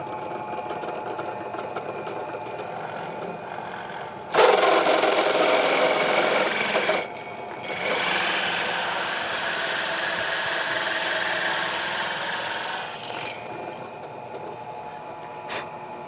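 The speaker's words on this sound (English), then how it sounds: "I'm going to turn my drill on. I'm going to drill as far as it will" A power drill with a 1 1/2 inch bit whirs steadily into wood for a bluebird house for several seconds, its pitch shifting under load, then winds down to a quieter hum.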